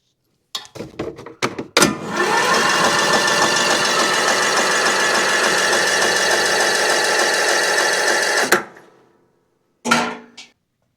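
A Cub Cadet CC30 riding mower engine cranks over without starting, a loud steady churning that runs for about seven seconds on a weak battery, with short clicks and knocks before it and a brief burst after.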